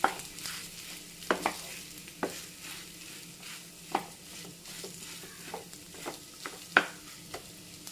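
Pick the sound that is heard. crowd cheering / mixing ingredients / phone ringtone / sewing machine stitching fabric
mixing ingredients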